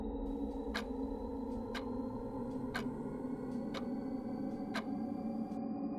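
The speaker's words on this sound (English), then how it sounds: "The only sound I hear is the faint ticking of the clock." A clock ticks faintly and steadily, roughly once a second, over a low background hum in a quiet room.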